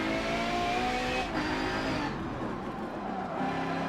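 A Ferrari FXX K screams around the Nürburgring in Forza Motorsport 7, its engine revving high and loud, pitch climbing and dropping through gear changes, close and without talk.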